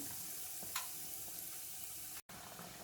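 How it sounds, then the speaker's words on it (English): Potato salad toast deep frying in hot oil for Korean street food gives a steady, close sizzling hiss that runs throughout, broken only by a brief gap. "Now you just have to deep fry the toast. So then it goes in hot oil."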